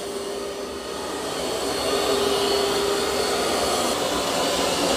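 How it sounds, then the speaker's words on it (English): An eufy X10 Pro Omni robot vacuum mops the floor, giving a steady whirring motor drone with a faint tonal whine. It runs loud and close, rising slightly after the first second, with no talk. "Now it's mopping up those prints."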